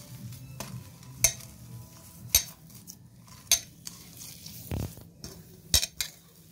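Mashed potato filling for fuchka is mixed by hand in a bowl, with several sharp clinks of utensils against the dish standing out over a soft, continuous squishing and rustling.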